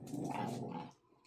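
Indoors at home, a dog lets out a low, faint growl lasting about a second before trailing off into quiet, with no voices over it.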